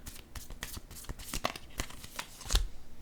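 Playing cards being handled and laid down on a surface, giving close, quick papery flicks and rustles with a firmer slap near the end.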